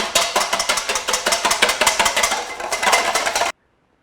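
Two eggs whisked briskly in a bowl for French toast, a steady run of quick metallic clinks and taps repeating about three or four times a second for several seconds, close and clear, then stopping abruptly into silence.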